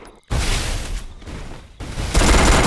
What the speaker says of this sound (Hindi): डबल वेक्टर चला रहा है शायद